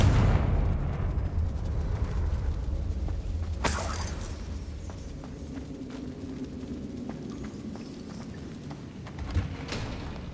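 A Confringo fire spell in Hogwarts Legacy gives one sharp blast partway through. It sits over a rumbling, crackling game background with faint ticks and a later thump.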